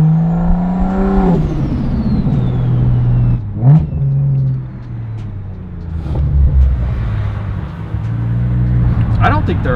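A BMW M with a built N55 engine and big single turbo revs and accelerates, a loud close engine drone rising and falling with a whooshing turbo sweep, under people talking.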